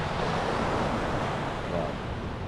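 Surf washes steadily onto the beach at Scarborough seafront in the early morning, a continuous broadband roar mixed with some wind across the microphone.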